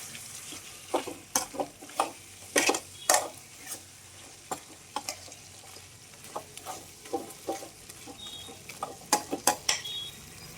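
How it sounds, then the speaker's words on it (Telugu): Chicken frying in a pan for a gravy curry, a soft background sizzle punctuated by irregular sharp clinks and scrapes of a utensil against the pan as it is stirred, close and clear, with no talking. "చికెన్ అయితే బాగా కలవేద్దాం. బాగా వేగుతుంది ఫ్రెండ్స్,"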